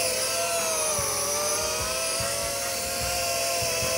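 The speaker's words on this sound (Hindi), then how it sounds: "स्टेबिलिटी के साथ उड़ रहा है यार ये ड्रोन।" A small drone styled as a toy fighter jet flies nearby with a steady, high-pitched whine, continuous and fairly loud with no speech.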